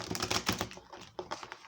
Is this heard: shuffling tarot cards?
yes